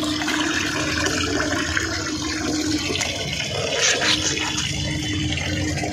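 Water splashes and pours steadily while a freshly scaled live snakehead fish is rinsed in a kitchen, a continuous close wash with no talk.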